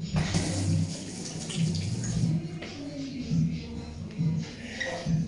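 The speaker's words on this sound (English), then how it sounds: "wash my hands" Tap water runs steadily while hands are washed in a kitchen during burger preparation, a continuous close splashing with faint low background hum and some brief murmurs underneath.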